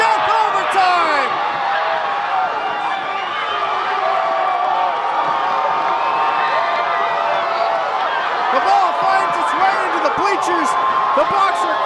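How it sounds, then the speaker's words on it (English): A home crowd at a high school boys' soccer playoff erupts after a sudden-death overtime goal, sustained loud cheering, whistling and shouting that fills the whole stretch without a break. "The Boxer crowd goes crazy."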